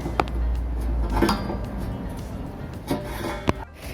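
A 2 mm thick metal plate is handled and shifted, giving scattered clanks, scrapes and rubbing knocks, close and uneven, with a few sharp metallic taps.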